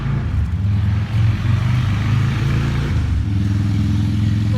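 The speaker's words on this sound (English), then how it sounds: "Little motorcycle going down the road there." A small motorcycle passes along a road outside, its engine a steady, loud, low drone with slight shifts in pitch and no voices.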